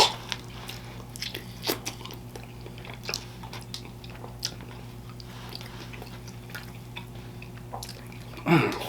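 Close-up eating of a juicy bone-in roasted chicken thigh at a soul food meal: scattered wet bites and chewing with moist smacking over a low steady hum, ending in a louder bite.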